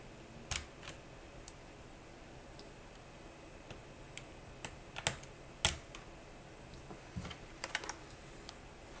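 Zifriend ZA63 mechanical keyboard with a plastic case and foam underneath, keys pressed in sparse, scattered clicks, close and fairly quiet, with no talking.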